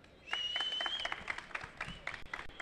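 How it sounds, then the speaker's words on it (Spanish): Light applause from a small audience at a Rubik's-cube-solving robot algorithm contest, scattered claps over a thin sustained whistle-like tone, fairly quiet and brief. "un aplauso"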